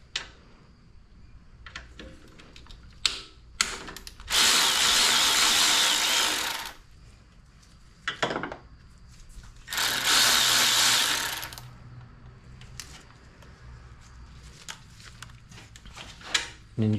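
A ratchet wrench works a 10mm nut off a 2011 Toyota Camry 2.5L alternator, with two sustained bursts of fast ratcheting whir separated by short clicks and quiet handling noises, close and fairly loud.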